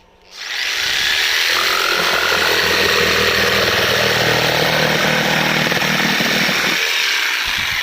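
Electric jigsaw powered through an inverter runs steadily and loudly for several seconds after a quick spin-up, a continuous buzzing whine with no talk.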